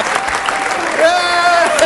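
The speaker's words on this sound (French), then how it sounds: "Il y en a qui l'applaudissent de bon cœur quand il perd" A poker tournament audience applauds a strong professional player as he is knocked out, steady clapping with a crowd murmur and a voice talking over it.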